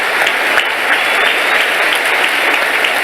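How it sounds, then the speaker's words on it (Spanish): Loud, sustained applause from a congregation at a church service fills the whole stretch evenly, a dense wash of clapping with no voices rising above it. "Den un fuerte aplauso a Él y prepárese"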